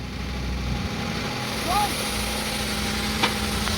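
A car engine idles steadily with its exhaust blocked off to check for leaks, a constant low running hum with a faint whistle and one brief sharp click near the end.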